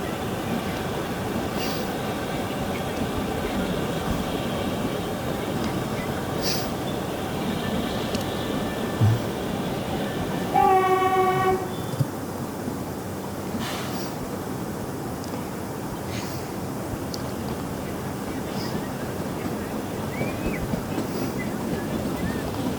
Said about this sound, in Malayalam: ചുവട്ടിലൂടെ ട്രെയിൻ കടന്നു പോകും.